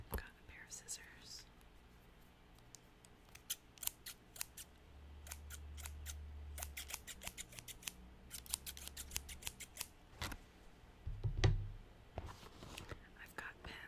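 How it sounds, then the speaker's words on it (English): Scissors snip and click repeatedly in quick clusters, close up, with quiet whispered speech underneath. "I've got a pair of scissors."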